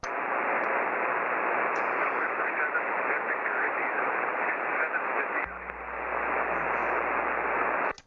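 Static on the 17 meter amateur radio band, a continuous loud band of hiss and crackle that briefly shifts with a low hum before the noise returns.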